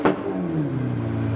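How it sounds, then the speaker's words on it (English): A Pagani Huayra BC hypercar engine fires up with a sharp bang, then settles into a deep rumbling idle that dips in pitch after a brief rev, at a car week event. "they also started the Pagani Huayra BC."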